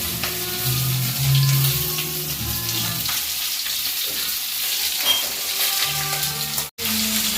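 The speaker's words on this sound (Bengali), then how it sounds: "মাছটা ভালো করে লাল লাল করে ভেজে নেব।" Tangra fish sizzles steadily in hot oil, a close, constant crackling hiss that briefly cuts out near the end, with no voices.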